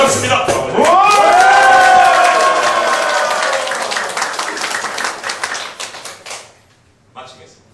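A lecture-hall audience at a speech-training club's opening ceremony breaks into applause and cheering behind a guest speaker, dense clapping with overlapping voices that gradually thins and fades out.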